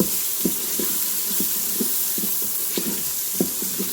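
Ginger and garlic sauté in an Instant Pot, with a steady close sizzle broken by light, irregular taps and stirring clicks.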